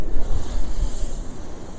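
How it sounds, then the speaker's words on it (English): Ocean waves break on rocks at Portland Bill, a loud, continuous roar of surf with low rumble and wind buffeting the microphone. "got that pad in front where the waves are breaking off of there"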